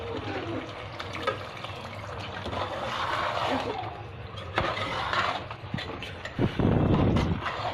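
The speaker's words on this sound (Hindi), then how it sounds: "थोड़ा से पानी डाल दें अपने हिसाब से।" Water poured into a pot of chicken stew, a continuous splashing, gurgling flow that swells and surges near the end, close by with no clear talk.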